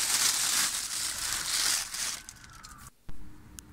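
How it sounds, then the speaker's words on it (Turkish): A plastic bag crinkles and rustles around potted flowers on a balcony in winter, loud, close and continuous for a few seconds, then stops abruptly before one last short crackle. "Poşetimiz biraz ses çıkartıyor ama kusura bakmayın"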